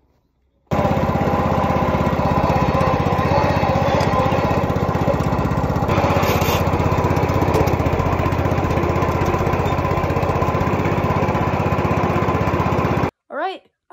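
A Massey lawn mower engine runs loud and steady close by, a constant rough drone that starts abruptly and cuts off near the end, followed by a brief mechanical sound.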